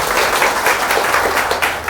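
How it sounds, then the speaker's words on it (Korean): An audience applauds steadily, a dense wash of many hands clapping at once, fairly loud and sustained throughout. "박수 쳐주세요"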